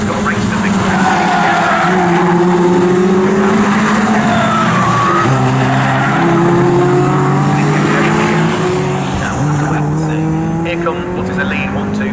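1600cc race cars at the Snetterton circuit race along the Bentley straight, a loud, continuous engine roar with shifting pitches as several cars pass. A commentator talks over the racing.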